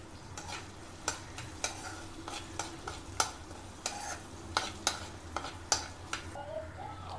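Onions frying in a pan with salt and turmeric, a soft continuous sizzle broken by regular scraping clicks of a spoon stirring, close and fairly quiet, with no talking.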